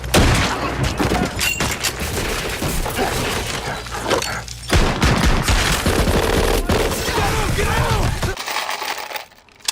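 Rapid bursts of gunfire from 1944-era firearms on a war film set, dense overlapping automatic shots and cracks filling most of the stretch, loud and close, before cutting off near the end.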